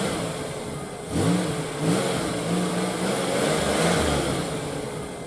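An electric remote-control car motor whines as the throttle is blipped repeatedly, rising and falling in short bursts at close range with no one speaking.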